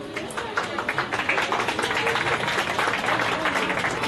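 Audience clapping at a children's prize distribution, a steady burst of many hands applauding for about four seconds, with a voice faintly under it.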